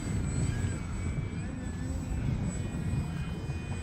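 An E-flite Extra 300 RC airplane flies on a 4S 3200 battery in windy conditions. Its electric motor drones steadily at a moderate distance, with wind rumbling underneath and a voice speaking over it.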